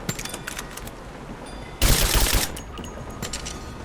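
Gunfire in Rise of the Tomb Raider, a sharp dense burst of rapid shots lasting about half a second amid quieter scattered clicks and impacts.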